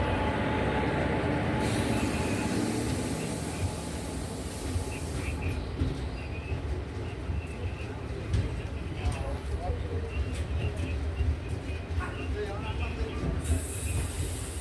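A passenger train pulls into Thiruvananthapuram Central station with a steady, heavy rumble of wheels on track, occasional metallic squeals and station bustle, while a person talks over the noise.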